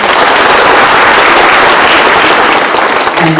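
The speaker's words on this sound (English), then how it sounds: "deserves a round of applause" Loud, dense applause fills a school year-end awards ceremony, steady and sustained throughout with no pauses, from a large crowd close by.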